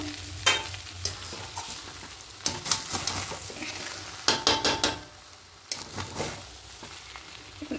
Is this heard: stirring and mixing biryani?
yes